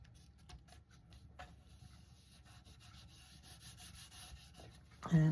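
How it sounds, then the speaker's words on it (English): Soft, faint rubbing strokes while burnishing a paper panel onto a glued card, quiet repetitive scraping close by, ending in a louder handling knock. "we'll burnish a little bit to help that glue adhere"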